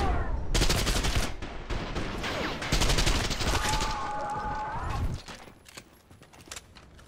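Rapid, loud video-game gunfire from Trepang2 fills the first five seconds in dense automatic bursts, then cuts off, leaving quieter ambient game sound.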